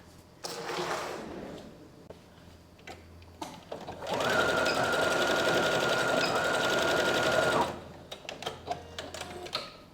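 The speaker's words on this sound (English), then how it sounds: "now I'm going to go to my sewing machine and I'm going to sew over it a few times" A home sewing machine stitches over elastic in a garment tunnel, running steadily for about four seconds between short handling noises, close and fairly loud.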